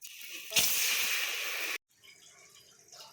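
A loud, sudden sizzling hiss as water hits a hot pan of frying moringa leaves and egg, cutting off abruptly, followed by quieter bubbling and crackling.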